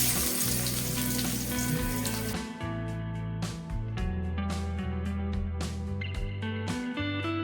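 Onions and curry leaves frying in hot oil with cinnamon, cloves and other whole spices for chicken, making a dense, loud sizzle at first that thins into crackling, with occasional stirring scrapes and a steady background hum.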